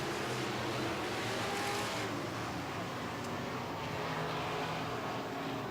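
Midwest Modified race cars on a dirt track during a feature race, a steady roaring wash of several engines blended with crowd-like broadband noise, continuous and moderately distant with no talk over it.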